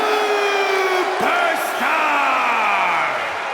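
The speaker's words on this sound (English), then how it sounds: "It's great to hear the crowd give this superstar the reception he deserves" A wrestling arena crowd in the WWE 2K25 video game roars and whoops for a superstar's entrance, loud and continuous with rising cheers and yells layered together, swelling again after a brief dip.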